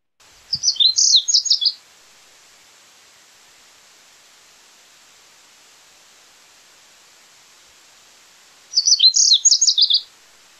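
Wild birds at Knickerbocker Meadow near Big Bear Lake give bright, high-pitched chirping calls, a short burst near the start and a matching burst near the end, with faint steady hiss between.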